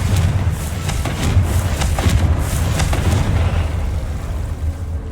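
Confringo spell explosions in Hogwarts Legacy: a steady run of rumbling booms with several sharp pops, loud and continuous, fading slightly at the end.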